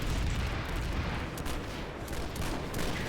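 Shotgun blasts and battlefield gunfire from an online shooter game, a dense, loud, continuous wall of overlapping shots and explosions with no clear gaps between them.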